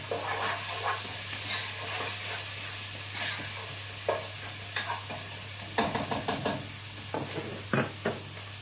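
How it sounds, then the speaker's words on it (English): Tomato sauce with oregano and basil being stirred in a pan for lasagne, a soft simmering hiss under a low hum, with a run of quick spoon scrapes and taps toward the end. "oregano in, basil in. Give it a stir."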